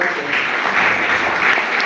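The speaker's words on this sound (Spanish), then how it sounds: "les pido un fuerte aplauso" A brief burst of audience applause at a book presentation, steady, full clapping from a room of people with no speech over it.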